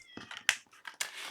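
A house cat whining and meowing behind a closed door, a few faint, muffled cries in quick succession, distant and soft.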